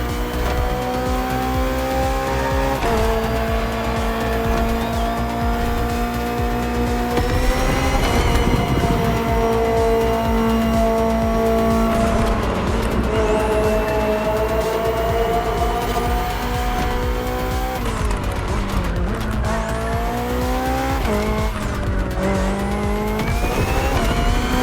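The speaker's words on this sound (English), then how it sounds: "The BMW M Hybrid V8. What a beast." A BMW M Hybrid V8 endurance race car from 2023, driven in The Crew Motorfest video game, roars loudly and continuously with rising and falling engine pitch as it shifts gears, with occasional tire squeal.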